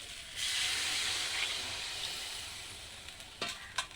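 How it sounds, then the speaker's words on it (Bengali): Water hits a pan of fried spiced potatoes, and a sudden loud hiss and sizzle bursts up, then gradually settles. A couple of sharp clinks from a utensil come near the end. "এবার আমি জল দিয়ে দেবো।"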